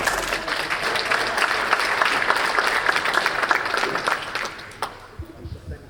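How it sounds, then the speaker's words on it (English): Audience applause at a fair chance hiring conference panel: dense, steady clapping from a crowd that holds for several seconds, then thins and dies away near the end. "One more round of applause, please."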